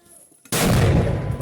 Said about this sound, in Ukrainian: Міномет накриваємо зразу після пострілу